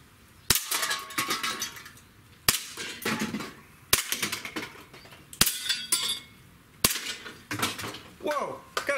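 A Springfield Armory 1911 Mil-Spec pistol fires six spaced shots at cans, each loud crack followed by clattering metal and some talk between shots.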